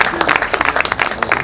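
A wedding congregation in a church service applauds and cheers the Lord, a dense, loud, close burst of clapping with raised voices mixed in.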